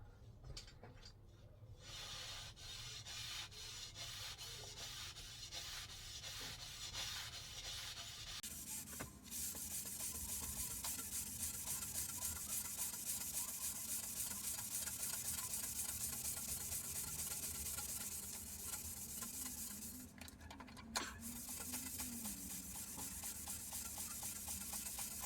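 A handheld abrasive pad brushes a grain finish into a 316L stainless steel heart, giving a steady, close, continuous scrubbing hiss that runs almost unbroken, with a couple of brief pauses in the strokes.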